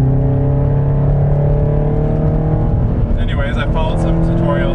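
A tuned Subaru BRZ engine drones steadily at close range while driving, its exhaust note running continuously, with scattered crackling bursts near the end that fit exhaust pops; voices talk over it throughout.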